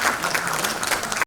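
Audience applause at a Sri Lankan awards event, a brief burst of dense, steady clapping that stops abruptly.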